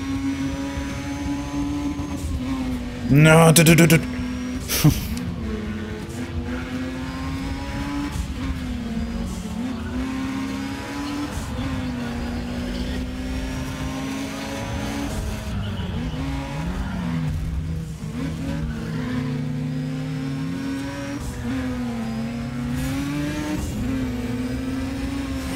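A rotary Wankel engine in Need for Speed ProStreet screams in a high, steady whine, its pitch rising and dipping as gears shift, with a brief burst of skidding tires near the start.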